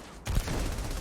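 Gunfire erupts in Starfield, a sudden loud blast followed by a sustained rumbling burst of noise, with no one speaking.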